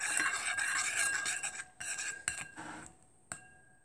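Clear slime is stirred and mixed in a bowl, with wet scraping and squelching followed by a few separate clinks of a utensil against the bowl, close and quiet.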